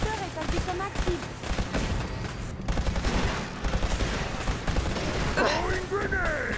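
An automated turret in Fallout 4 unleashes rapid bursts of gunfire, dense rattling volleys that run almost continuously and loudly, with a voice speaking partway through.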